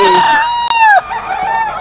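A lemon sweater gamecock, a mature rooster at a bird market, crows once, loud and near, with a long sustained call that falls off at the end, followed by faint background noise.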